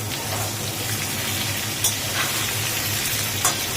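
Eggplant, pointed gourd and ridge gourd fry in a pan, giving a continuous close sizzle with a low steady hum underneath and a couple of brief sharp clinks, with no talking.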